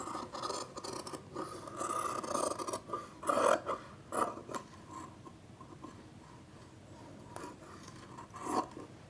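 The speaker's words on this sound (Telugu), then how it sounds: "దాని తర్వాత ముందు మెడ ఎప్పుడు కూడా పైకి ఉంటుంది కాబట్టి ఈ మెడని కటింగ్ చేసేద్దాం." Scissors cutting the neckline of a blouse from fabric: a close series of crisp snips and rasping cuts, bunched in the first half and then sparser, soft and without talk.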